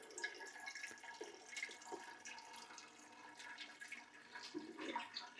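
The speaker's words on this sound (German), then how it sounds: "dann spülen wir das jetzt mit reinem Wasser erstmal durch" Plain water rinses through a freshly repotted plant in its pot, a steady splashing, trickling flow running continuously at moderate level with brief heavier gushes.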